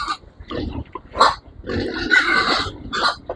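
A pregnant sow squeals and grunts in loud, strained bursts while receiving an iron injection, rising to sustained shrill cries midway, with no talk over it.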